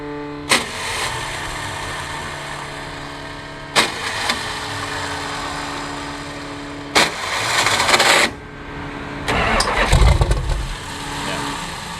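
Twin-turbo 440 rat rod engine fitted with a new modern mini starter, cranking loudly in several separate bursts of a few seconds each, with steady idle-like rumble between attempts and no speech.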